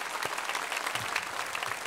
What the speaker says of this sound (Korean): 성삼위 하나님께 감사의 박수 드립시다